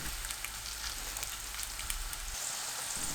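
Kimchi pancake batter, spread wide in a preheated oiled frying pan over medium-low heat, sizzles and crackles steadily with a dense continuous hiss and scattered pops, close and without talk.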